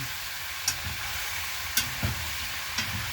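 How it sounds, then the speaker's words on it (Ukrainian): Steady broadband sizzling of pork fat frying in a pan, with a few soft clicks and pops standing out over the constant crackle. "Газ на плуму, хай шкварчить."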